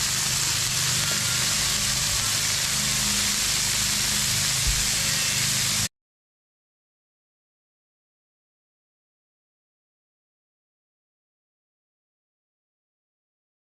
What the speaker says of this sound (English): So what I'm thinking is it's time to flip these burgers.